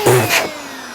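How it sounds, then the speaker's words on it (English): A MaxShine mini handheld blower dryer gives a brief, loud, close whir that quickly fades to a faint trailing hum. "This is their mini handheld dryer."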